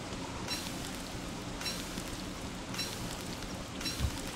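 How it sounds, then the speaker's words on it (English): Steady hiss of rain falling in a video game, a constant broadband wash with slight rhythmic swells, no voices. "It's raining."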